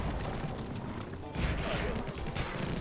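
Units in the strategy game Infested Planet firing rockets at hardened enemy structures such as turrets and spawners, producing dense, overlapping blasts and bursts that swell after the first second amid heavy game noise.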